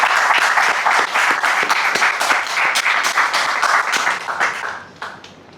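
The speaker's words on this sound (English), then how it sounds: "So a big round of applause for all the students," Audience at a Le Wagon Bali coding bootcamp graduation applauding the students, dense steady clapping from a room full of people that fades out after about five seconds.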